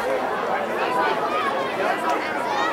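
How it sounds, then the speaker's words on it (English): Crowd at a football game, a steady, dense wash of cheering and chatter from many voices, continuous and moderately loud with no clear breaks. "As we hear some cheers from the crowd."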